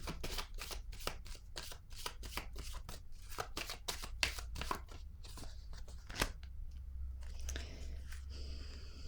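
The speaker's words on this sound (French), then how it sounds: "je vais déposer une autre carte ici" Tarot cards are shuffled and laid down close by: a rapid run of crisp riffling snaps and clicks, then a few slower taps as cards settle, with no talking.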